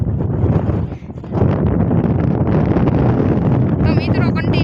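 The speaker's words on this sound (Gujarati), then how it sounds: "કન્ટિન્યુ પવન આવે છે બહુ" Wind blows hard and continuously outdoors, buffeting the microphone with a loud, rough rumble that dips briefly and then resumes.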